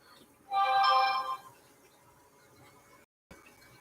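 A phone rings once indoors, a bright warbling electronic tone lasting about a second, then fading to quiet room hush.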